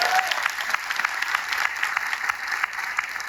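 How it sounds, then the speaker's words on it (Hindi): A crowd of audience members at an RCM gathering in Noida claps loudly and steadily to welcome new members, a dense, sustained round of applause close by with no break. "एक बार नए साथियों के लिए जोरदार ताली बजा सकते हैं?"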